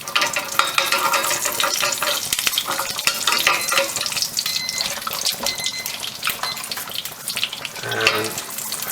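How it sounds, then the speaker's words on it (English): Kashmiri chilies sizzle and crackle steadily in hot oil for a Rajasthani lamb curry, a dense, close frying hiss with occasional stirring clinks. "These are sizzling away nicely."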